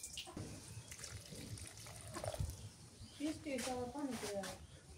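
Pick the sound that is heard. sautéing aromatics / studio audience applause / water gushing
water gushing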